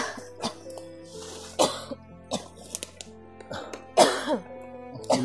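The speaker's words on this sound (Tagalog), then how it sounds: "Inuubo talaga mga tol." Several harsh coughs and throat clears from a sick child come in bursts, close by, separated by short pauses over a faint background hum.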